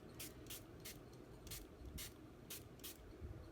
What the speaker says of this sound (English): the more water you spray on it, the more the crystals are going to burst